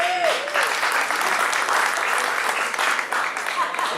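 A crowd claps steadily and loudly at a historical society's mescal fundraiser as the dignitaries are introduced, with some voices mixed in.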